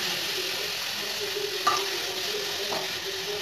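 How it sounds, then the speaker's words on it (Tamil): Grated carrot poriyal being stirred over low heat in a pan gives a gentle continuous sizzle, with a couple of soft spoon clinks against the pan and no talking. "இப்படி நல்லா கிளறி"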